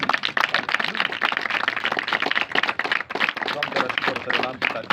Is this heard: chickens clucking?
no